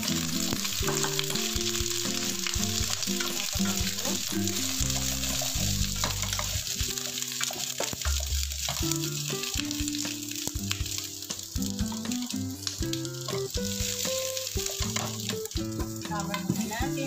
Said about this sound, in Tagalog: isauté natin ang ating garlic